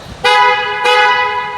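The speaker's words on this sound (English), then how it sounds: "We even listened to the horn." Horn of a 2024 BMW X1 M35i sounding two honks, a short blast then a longer one, loud and close with no one talking.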